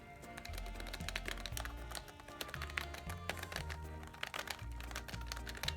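Rapid, continuous typing on a grey IBM ThinkPad 330C laptop keyboard, soft mushy keystrokes tapping in quick bursts, close up and fairly quiet, with a low tone underneath.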